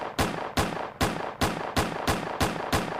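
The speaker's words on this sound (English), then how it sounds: "You could hear the shots clearly going off." Rifle gunshots from a shooter on a roof in Marina del Rey, a run of eight evenly spaced loud sharp cracks, each trailing into an echo, with no voices.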